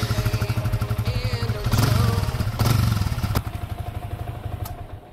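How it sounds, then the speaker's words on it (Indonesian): A used motorcycle engine runs close by with a rapid, pulsing idle, briefly rising in two short surges before settling back, with faint talk in the background. "oli yang banyak juga bisa meredam suara mesin yang sebenarnya memiliki suara yang bising dan kasar"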